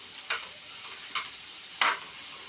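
Onions fry in oil for kaleji fry with a low, steady sizzle, broken by three or four short scraping strokes of a spoon stirring the pan.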